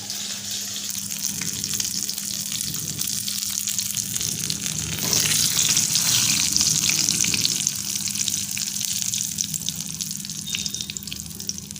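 A little water is added to brinjal sizzling in a pan, giving a loud, continuous hiss and spatter that swells partway through and stays steady.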